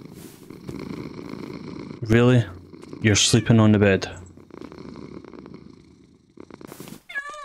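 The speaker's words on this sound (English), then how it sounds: "Oh, it just purred at me." A Minecraft cat purrs in a low, steady rumble on a bed, continuing under two bursts of a person talking and a short final remark.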